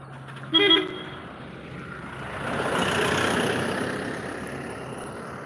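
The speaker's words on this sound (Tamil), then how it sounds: "ஐயோ வண்டி வருது தண்ணி வாரி அரைச்சிட்டு போயிடுவாங்க" An animated cartoon vehicle gives a short, loud horn toot, then its engine swells into a rising rumble as it draws near and fades slightly, heard on its own without voices.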